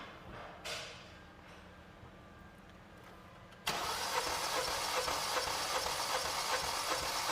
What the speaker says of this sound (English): Hit the space bar and go ahead and crank it again.